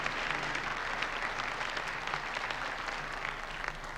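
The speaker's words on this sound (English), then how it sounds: "I hear cheering, applause." A crowd of many people clapping and cheering in a scene from the 1988 film They Live, dense steady applause at moderate distance, sustained evenly across the whole stretch.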